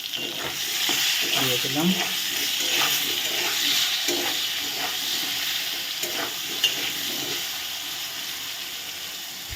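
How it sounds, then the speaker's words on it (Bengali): Potatoes fry in a pan with salt and turmeric, giving a steady close sizzle broken by scraping stirring strokes. A voice speaks briefly over the cooking. "আলুটা একটু ভাজা ভাজা হয়ে গেছে।"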